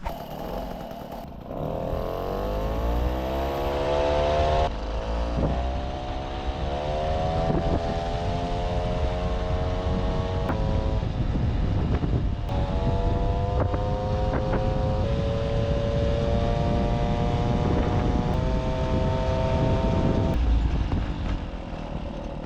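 An MBK 40V moped with an Airsal 70 kit and SHA 15 carburetor on a test track: the two-stroke engine revs up and pulls through rising and falling buzzing tones, loud and continuous, with wind noise buffeting the microphone.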